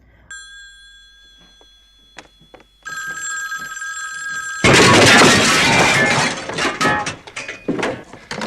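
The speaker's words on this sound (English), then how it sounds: "he goes around trying to find others until he hears a phone ringing" A telephone rings repeatedly in a quiet scene from The Martian Chronicles miniseries, bright electronic trills that grow louder before a loud, noisy burst of crashing sound takes over.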